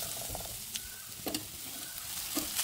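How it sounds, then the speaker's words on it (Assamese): Rice-flour sandoh fries in hot oil in a pan, a soft, steady sizzle broken by several brief scraping stirs, heard close and fairly quiet with no talking. "এইখিনি অকণমান ভাজি ল'ম কাৰণ সান্দহটো ভজা ভজা গোন্ধটো আহিলে ভাল লাগে"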